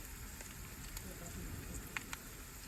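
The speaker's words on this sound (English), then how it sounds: "So I'm frying my chicken in some Tesco olive oil." Faint crackling sizzle of chicken frying in olive oil, a soft continuous hiss with a couple of sharper pops near the end.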